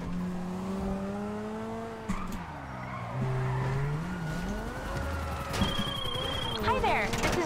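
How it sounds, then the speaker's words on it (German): Fast car in the video game GTA V racing and skidding, a droning engine rising and falling in pitch with tire squeals and a siren nearby, while a person talks over it. "die Karre ist so schnell, das ist unfassbar"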